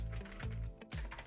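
Several quick clicking keystrokes tap on a computer keyboard, close and fairly soft, in a short irregular burst.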